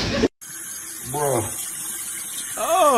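Water runs steadily from a sink tap, a continuous hiss and splash with voices talking over it.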